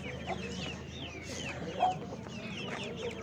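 Village chickens and roosters at a poultry market in Gördes, with several nearby clucks and short squawks overlapping against a busy background murmur, one louder cackle standing out midway.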